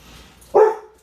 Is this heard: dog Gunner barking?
yes